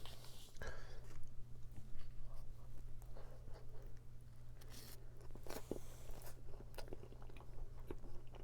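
A large lemon tart is bitten and chewed up close, with crunchy bites and wet chewing sounds in irregular bursts over a low steady hum, and no talking.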